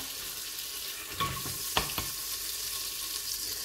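Oil crackles and sizzles softly in a pot as the base for harira, a Moroccan-Algerian soup, starts to fry, with a couple of sharp clinks from a utensil against the pot.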